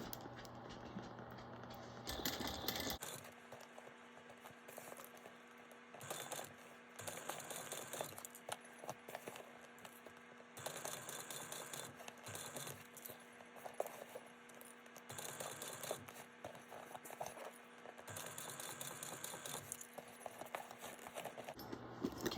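Sewing machine stitching through a light-up bag, a faint rapid patter of needle strokes in bursts with brief pauses and small rattles, quiet and close.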